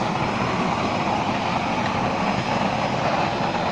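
A 6-inch waste oil stove burns with a loud, steady roar, a broad unbroken rumble that holds level throughout, close and without pauses.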